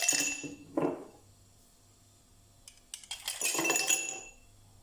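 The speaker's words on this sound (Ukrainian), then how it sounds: "стакани вкидаємо лід." Ice cubes clatter into a glass in two separate bursts, with a quiet pause between the clinks.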